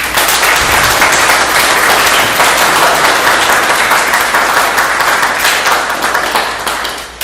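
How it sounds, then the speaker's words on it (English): Loud, dense applause from a crowd at a campus meeting honouring a staff member's years of service, continuous close clapping that stays strong before tapering slightly at the end. "I would have a round of applause for that."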